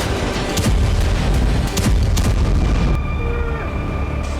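Blasts in Russia's Rostov and Tatarstan regions during the war near the Ukrainian border, a loud, continuous rumbling roar with several sharp cracks and booms, heavy and sustained throughout.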